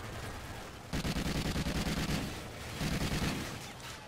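Rapid automatic gunfire in the video game Call of Duty: Ghosts Extinction, two sustained bursts of fast repeating shots over a dense, noisy battle background, with no one talking.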